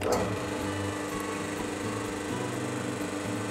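A Powermatic PM2244 drum sander runs with its drum motor on, giving a steady, moderate machine hum with low rumbling tones that holds even and unchanging throughout, fairly quiet for a large machine.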